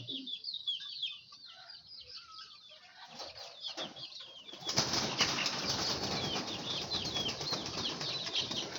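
Chickens cluck softly, then wings flap in a loud, sustained flurry as they seek higher ground, with rustling and scattered clucks continuing throughout.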